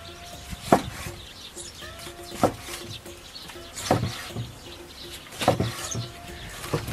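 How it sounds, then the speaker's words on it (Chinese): A knife slicing ox liver on a cutting board, with about five sharp, evenly spaced chops against the board amid quiet outdoor ambience with faint bird chirps in the background. "牛肝先切片，"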